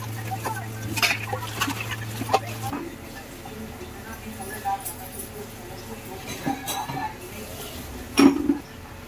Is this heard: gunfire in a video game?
no